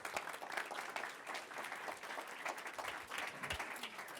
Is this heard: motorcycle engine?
no